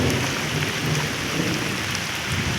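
Summer rain pours in a dense, continuous wash with a low rumbling undertone, loud and unbroken, with no one speaking.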